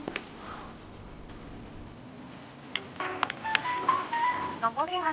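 Telephone keypad beeps and tones from someone dialing a phone at a busy factory, short tonal blips clustering toward the end over faint background voices and room noise.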